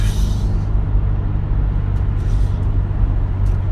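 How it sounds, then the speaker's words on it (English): A 2016 Subaru WRX Premium turbo with a manual gearbox lets off the gas, its wastegate giving a brief airy hiss at the start over a deep, loud engine rumble, followed by faint clicks and no talking. "When you let go of the gas, the wastegate is just like"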